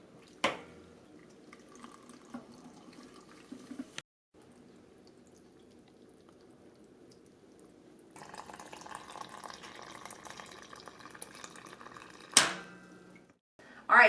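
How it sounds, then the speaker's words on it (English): Water poured from a Berkey filter into a pickle jar, a faint trickle and drip that turns into a steadier filling stream midway, punctuated by a few sharp clunks and handling noises. "I'm going to use my Berkey and I'm going to fill it up the rest of the way with water."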